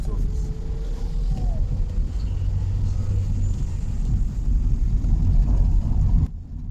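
A car drives along Cape Coast Road through the streets of Takoradi, Ghana, with a steady low engine and road rumble throughout and faint speech-like sounds underneath, before the noise drops away abruptly near the end.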